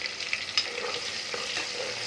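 Onion frying in a pan gives a constant bright sizzle with a few soft stirring strokes, close and steady with no voices.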